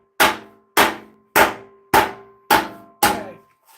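Six evenly spaced, ringing hammer blows strike steel while crusader armor is shaped, each a loud, close metallic hit that decays quickly in a steady rhythm.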